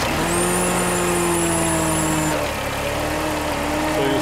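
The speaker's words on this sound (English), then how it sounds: "I'm gonna start the car" A Mercedes W203 car engine runs steadily and loudly close by, with a sustained hum and faint whine that shift slightly partway through, and no talking.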